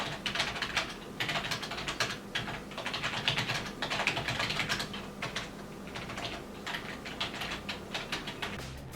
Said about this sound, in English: I'm going to do some random typing on it and just give you guys a sample of how loud the keyboard really is